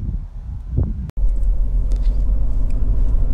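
Low, steady road rumble and engine noise from a Honda CR-V 2.0 i-VTEC ES manual five-door on a road test, heard from inside the cabin after a brief click and dropout.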